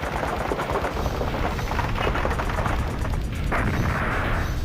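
Arcade gunfire from Beast Busters, a dense, continuous rattle of rapid machine-gun shots and booms that runs loud and steady throughout.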